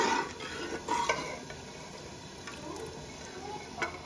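Chana dal heated and stirred in a pan, giving soft scraping and light clinks of a utensil against the pan, with a faint sizzle underneath and occasional louder stirring strokes.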